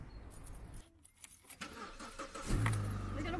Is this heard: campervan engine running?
yes